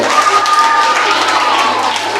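Crowd at a school contest final giving loud, sustained applause, a dense wash of clapping with some cheering mixed in.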